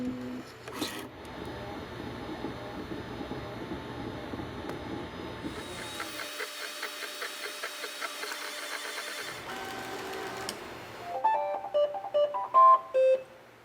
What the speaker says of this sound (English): this is the A1 3D printer combo that BAMBU Lab recently asked me to try out